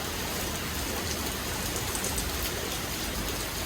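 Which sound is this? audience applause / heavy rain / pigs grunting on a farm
heavy rain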